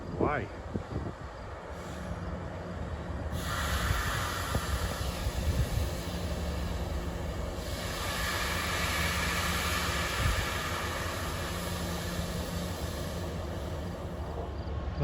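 A Metro North or Amtrak train rolling along the rails near Poughkeepsie on the line to New York, a steady, broad rumble and roar that swells and holds for the whole stretch, fairly close, with a sharper burst at the start.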